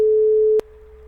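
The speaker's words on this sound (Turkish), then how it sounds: "402 Hz'e tıklıyorum." A steady pure tone at 402 Hz comes through a computer speaker, generated by a VB.NET program. It holds loud and even for about half a second, then a click cuts it to a quieter level for the rest.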